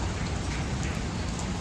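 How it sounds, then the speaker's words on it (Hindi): Steady rain pours down in a dense, even hiss across the whole stretch, loud and close with no breaks, during a night storm with lightning. "गाइस बारिश हो गई,"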